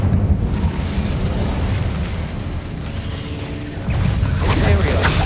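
A fire spell cast in the Hogwarts Legacy video game: a loud, sustained roaring whoosh of magical flame with rumbling, explosive texture, swelling into a sharper burst near the end.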